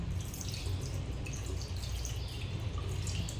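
Lukewarm water running and dripping for bathing kittens, a soft continuous trickle and splash at low level, heard alone without talk.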